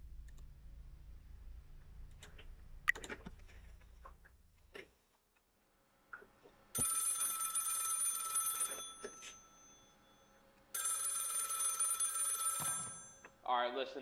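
A telephone rings in the Five Nights at Freddy's horror game, two long bright ringing bursts after quieter clicks and game noise, fairly loud and alone without talk.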